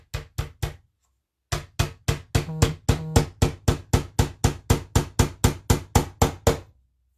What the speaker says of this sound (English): Just start hammering.